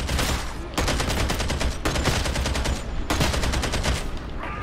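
Automatic gunfire from the video game Warhammer 40K Darktide, with loud, dense rapid bursts that run almost continuously and break off for brief gaps between volleys.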